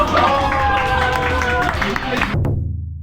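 An audience claps and murmurs to welcome an influencer at a guitar product event, a dense busy patter of hands mixed with crowd babble and music-like tones, cutting off abruptly near the end.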